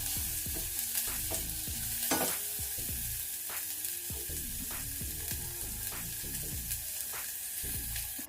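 Vegetables and sweet corn fry gently in a pan over a low flame, giving a soft, continuous sizzle with repeated scraping and stirring strokes of a spoon throughout.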